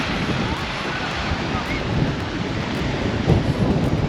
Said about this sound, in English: So they've got this lovely fountain here.